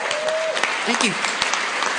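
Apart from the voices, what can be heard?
audience applause after a sobriety date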